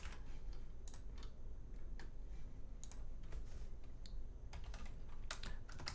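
Someone types steadily on a computer keyboard while entering Linux network route settings, producing light irregular key clicks over a low steady hum.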